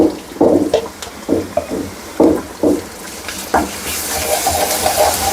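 Ginger garlic paste fries in a pan for prawn curry, with repeated close scraping stirs over a steady sizzle that grows brighter toward the end.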